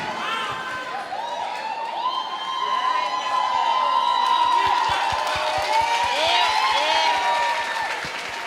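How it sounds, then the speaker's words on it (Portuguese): A church congregation applauding and cheering during a women's gathering, a sustained crowd roar with whoops and shouted voices over scattered claps, swelling slightly in the middle. "Vamos aplaudir o Senhor, igreja!"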